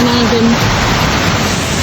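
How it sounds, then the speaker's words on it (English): Waterfall on the Isle of Skye roaring as a loud, dense, constant rush, close by, with a brief voice at the start. "I have to cross that waterfall."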